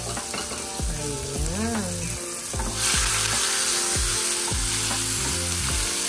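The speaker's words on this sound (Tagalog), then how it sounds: "ilagay na rin natin ang ating sibuyas at kamatis na ating hiniwa" Sliced onion and tomato frying in a pan for Filipino sautéed sardines: a loud, steady sizzle that swells partway through, with a voice speaking briefly over it.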